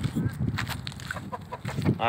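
Chickens cluck and squawk in a coop, close and busy short calls overlapping in quick succession, with a goose-like honk mixed in.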